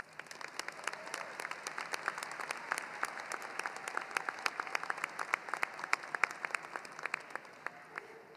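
A large crowd applauds at a spring undergraduate university commencement ceremony, dense steady clapping that holds at an even level from start to finish, with no voices over it.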